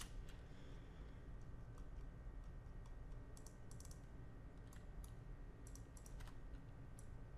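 Steady typing on a computer keyboard while building a map in the Far Cry 5 editor, light clustered key clicks in bursts over a continuous low background hum, close and fairly quiet.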